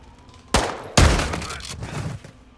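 Gunfire bursts in Call of Duty Modern Warfare 2 on PS5: two sharp, loud shots about half a second apart, the second followed by a long decaying rumble and scattered echoes.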